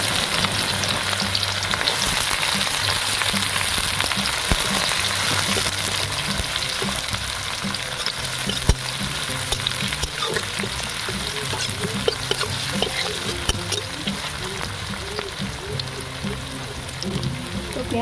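Chopped onion sizzles in hot oil tempered with dried red chillies and bay leaves. A dense, continuous frying crackle runs throughout, with occasional stirring scrapes and no talking.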